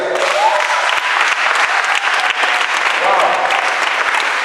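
A church congregation applauds and cheers in praise of the Lord, dense continuous clapping filling the room with a few voices calling out over it.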